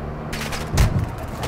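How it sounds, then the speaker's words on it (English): Video-game gunfire in a Warzone 2 DMZ match crackles out as a short burst of sharp shots, one louder close report standing out, with no talking over it. "Oh, they're shooting me."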